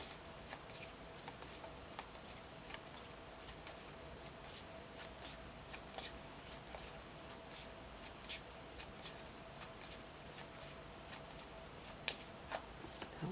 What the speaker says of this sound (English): It took a minute to shuffle.